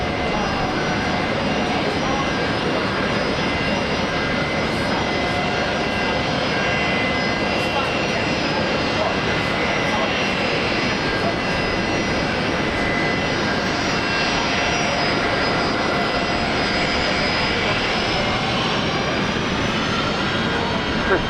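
An airliner lands at Brisbane Airport on runway 19 right, its jet engines a steady, loud, broadband roar throughout, while air traffic control radio talk runs over it.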